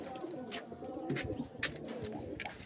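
Pigeons coo in soft, repeated throaty phrases, close by, with faint chirps and some background noise.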